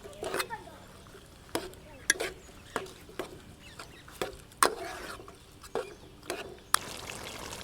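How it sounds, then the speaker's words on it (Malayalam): Kerala-style beef fry being stirred in a pan, with repeated sharp scraping and knocking of a spatula at irregular intervals over a low sizzle. "ഇനി നമുക്കേ ഇതിലോട്ട് നമ്മളെ ബീഫ് ഇട്ട് കൊടുക്കാം കേട്ടോ. നമുക്കൊന്ന് നല്ലപോലെ ഒന്ന് ഇളക്കി കൊടുക്കാം."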